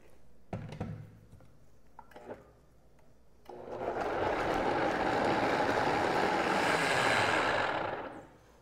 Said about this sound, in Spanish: Y vamos a licuar toda nuestra salsa.